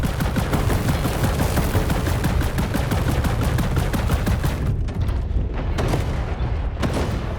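A combat robot in the War Robots Frontiers video game takes heavy, continuous gunfire, with dense rapid bursts and booms filling the mix loudly throughout and only brief thinning near the end.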